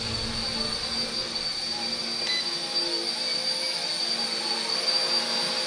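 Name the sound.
RC Era C032 UH-1 Huey RC helicopter flying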